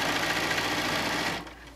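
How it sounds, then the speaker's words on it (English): Sewing machine stitching through layered quilt fabric, a steady fast mechanical whirring and rattling that runs close and constant, then slows and fades off near the end. "And so we're just sewing along."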